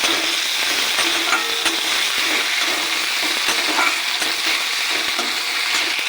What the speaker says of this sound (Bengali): দিয়ে একটু নেড়ে নেব